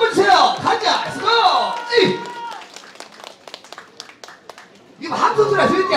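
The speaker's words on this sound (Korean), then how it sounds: "다시 한번 잘하라고 박수와 함성 한번 주세요" An outdoor festival crowd at a street performance in Pyeongchon claps and cheers loudly around a voice shouting over them, then the applause thins out before swelling again.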